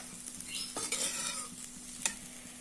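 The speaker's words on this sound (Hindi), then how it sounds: "तिली डाल के हम इसे चला लेंगे अच्छे से।" Sesame seeds sizzle with dry-style potatoes in a pan as a spoon stirs them, giving a quiet crackling hiss and a couple of sharp scrapes and taps against the pan.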